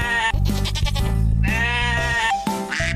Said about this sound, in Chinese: 绵羊 sheep